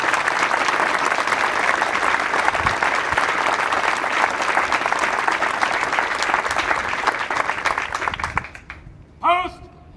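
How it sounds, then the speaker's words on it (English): A crowd applauds award recipients at a Marine Corps officer candidate graduation ceremony, sustained loud clapping for about eight seconds that fades out, followed by a brief shouted voice. "please join me in a round of applause for our award recipients"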